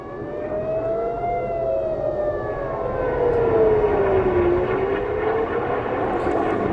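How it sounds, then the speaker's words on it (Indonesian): Air raid sirens wail across Tel Aviv during an Iranian missile attack, their rising and falling tones steady and loud for the whole stretch over a dense wash of city noise. "Iran meluncurkan serangan rudal ke Israel memicu sirine di kota Tel Aviv."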